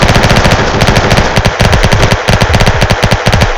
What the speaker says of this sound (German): Eine Maschinenpistole.